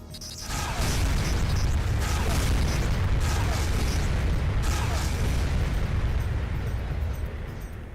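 Laser cannon firing in Armored Core 2: Another Age, a dense, loud, sustained roar of blasts with sharper bursts punching through repeatedly, filling nearly the whole stretch.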